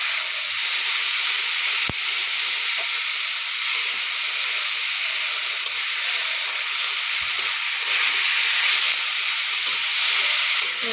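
Chili leaves frying in a pan, giving a steady, loud sizzling hiss that holds throughout with a couple of faint clicks and no talk.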